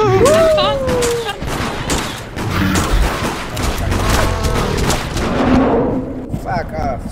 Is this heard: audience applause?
no